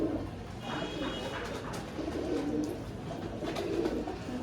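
Several pigeons coo softly in rolling, repeated phrases close by, with faint chirps and shuffling in the background.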